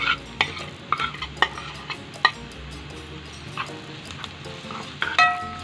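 Onion and garlic frying in a pan while being stirred, with scraping strokes and clinks of a utensil against the pan over a steady sizzle, close and fairly loud, no talk.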